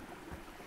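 A small, pretty stream winds beneath old railway sleepers, its foamy water flowing in a faint, steady wash over a brief moment with no talk.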